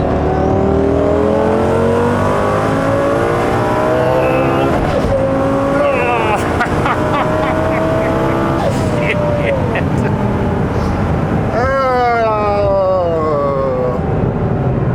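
A 2006 Lamborghini Gallardo twin turbo accelerates hard from inside the cabin, its engine drone climbing in pitch through several gear pulls as people talk and exclaim over the roar.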